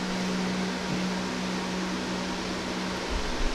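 An electric fan blows steadily beside a black car being waxed, a constant broadband whoosh with a low hum, close and even throughout with no talking.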